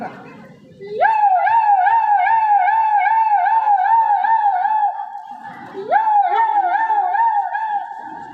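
A student mimicry performer imitates an ambulance siren with a wavering, warbling wail, sustained and close, starting twice after brief pauses.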